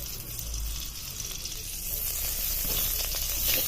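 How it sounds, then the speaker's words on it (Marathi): Ghee heating in a hot wok, a dense continuous sizzle and hiss held steady at close range and growing slightly louder, with no speech. "कढई तापली की त्याच्यामध्ये एक भर तूप घालून घ्यायचे"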